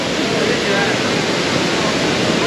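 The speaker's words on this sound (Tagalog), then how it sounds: "Jupen Waterfalls." A waterfall near Jiufen, Taiwan gives a loud, dense, steady rush of pouring water, heard up close and unbroken.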